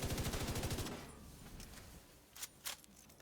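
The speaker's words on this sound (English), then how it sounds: "And now I have fire bullets." The Iron Lung light machine gun in The Division 2 fires fire bullets in a fast, loud automatic burst of evenly spaced shots for under a second. A few fainter impacts and clicks follow.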